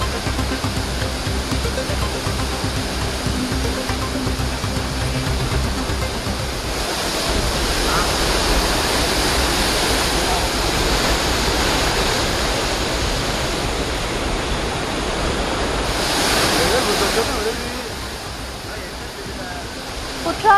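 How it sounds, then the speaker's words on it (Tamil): Heavy flood-swollen waterfall at Courtallam main falls in Tenkasi, a loud, continuous roar of crashing water that holds steady for the whole stretch, easing slightly near the end. "குற்றாலம் பிரதான அருவியில் வெள்ளப்பெருக்கு ஏற்பட்டிருக்கிறது."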